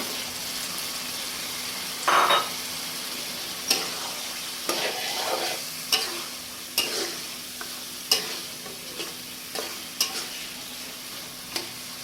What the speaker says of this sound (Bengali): এখন আমি আগে থেকে ধুয়ে পরিষ্কার করে রাখা চিকেনগুলো এর মধ্যে দিয়ে দিব